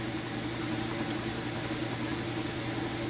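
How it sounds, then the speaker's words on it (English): A Kenmore electric dryer runs with a steady, even mechanical hum and low rumble, moderately loud and unbroken, with no talking. "So we're gonna move on to the dryer now."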